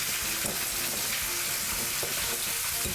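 Food sizzling and frying in a very hot cast iron pan as it is stirred and mixed thoroughly, a steady close crackling hiss with soft scraping stirs, no voices.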